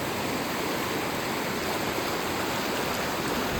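Rushing river water flows continuously at a crossing point in a dense, steady broadband wash, fairly loud and close, with no voices.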